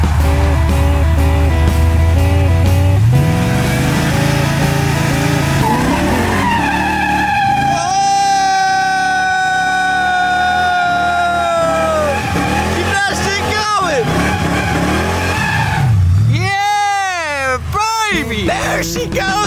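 A cheap budget race car skids and squeals its tires, the engine revving up and down as it pulls a near-wheelie and spins, loud and close, with excited voices talking and shouting over it.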